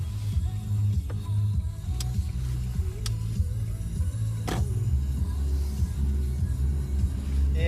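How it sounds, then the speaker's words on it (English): Steady low engine and road rumble heard from inside a car driving home, with a few scattered clicks and faint knocks over the drone, no talking. "So I'm driving home."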